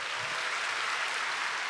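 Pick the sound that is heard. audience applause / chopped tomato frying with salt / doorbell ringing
audience applause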